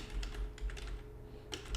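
Keys tapped on a computer keyboard in short irregular bursts, fairly faint over a low steady hum, with no voices.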